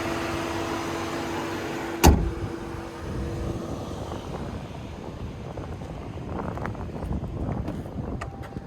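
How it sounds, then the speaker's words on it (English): Wind buffets a microphone outdoors beside a 2026 Cadillac Vistiq, a continuous low rumble with gusty swells, broken by a sharp clunk around two seconds. "This wind loves to wait till I start filming to just start going nuts"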